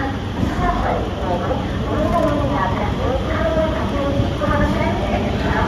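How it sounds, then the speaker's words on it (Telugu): A Narasapur–Vijayawada MEMU express pulls away from the platform, its steady rumble and rolling wheel noise continuous and fairly loud throughout, with faint voices mixed in. "నర్సాపూర్ రైల్వే స్టేషన్ నుండి మన విజయవాడకు వెళ్ళే మెము ఎక్స్ప్రెస్ డిపార్చర్"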